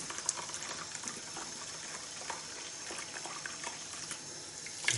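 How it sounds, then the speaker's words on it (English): Tap water runs steadily over a telescope mirror during a rinse, a continuous soft splashing hiss with occasional small spatters, fairly quiet and close. "Just give it a good rinse."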